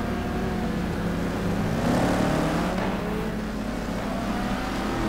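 Several race cars in a sim racing game, a 2014 South African simGT Challenge event, roar steadily with overlapping engine drones and rising revs as they run close together, loud and continuous with no talk.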